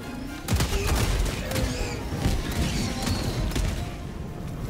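Turret gunfire in the video game Helldivers 2, a dense, loud fusillade of rapid shots and booms running continuously through the whole stretch with no voices over it.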